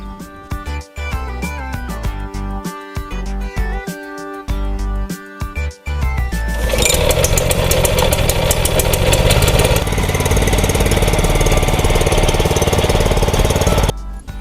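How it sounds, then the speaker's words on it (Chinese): A Nichino 650N wheel-less garden cultivator's small engine starts with a few sharp rattling pulls and knocks, then catches into a loud, steady, close-up running chatter that continues to the end. "今天要介绍的是日农650N 无轮式中耕机"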